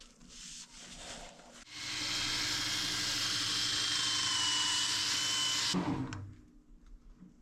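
Yorkshire Grit abrasive paste pressed against a spinning resin and cedar piece on a wood lathe gives a steady, loud rubbing hiss lasting about four seconds, framed by quieter lathe whir before and after.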